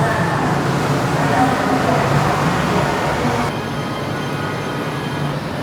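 Monorail train running through a building in Chongqing, China, a loud continuous rumbling roar of rolling wheels and motor that eases slightly partway through, with no clear talk over it.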